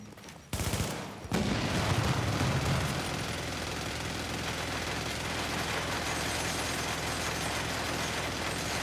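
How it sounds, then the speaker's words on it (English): Enemy gunfire in the shooter game The Division: a sudden loud onset that becomes a dense, continuous roar of rapid automatic shots and mechanical clatter, sustained at high level throughout. "He was shooting over your shield, but it's fine."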